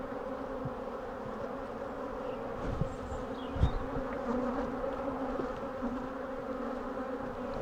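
Honeybees and drones hum steadily in an open hive, a dense, close buzzing with a few louder passes and light knocks of hive tools.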